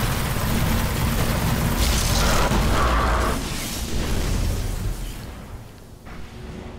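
A rocket explodes in the video game Destiny as a loud, sustained boom that rumbles for several seconds and then slowly fades, with no voices over it.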